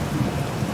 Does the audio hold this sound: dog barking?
no